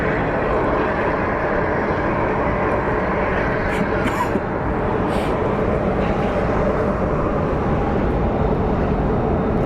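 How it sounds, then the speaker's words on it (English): Airbus airliner powering up at Phoenix Sky Harbor airport, a loud, steady broadband engine roar filling the whole stretch, heard from nearby on the ground with no break. "you can hear that we have a plane powering on"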